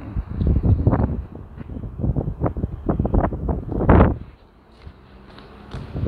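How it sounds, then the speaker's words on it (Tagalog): Strong, cold winter wind gusts buffet the microphone in heavy, irregular bursts in snowy Montreal, easing to a quieter lull before picking up again at the end. "sobrang lamig yung hangin, malakas yung hangin"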